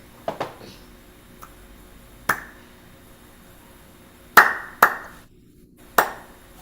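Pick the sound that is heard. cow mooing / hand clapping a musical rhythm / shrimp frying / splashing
hand clapping a musical rhythm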